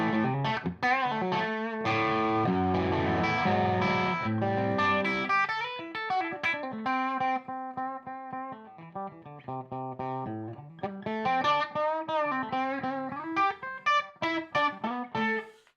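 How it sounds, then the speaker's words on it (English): Distorted electric guitar through a Davis 2C8 amp head, chords and picked notes loud and sustained at first, then sparser phrases with gaps between them. "the harder I hit the guitar, the more distortion I get"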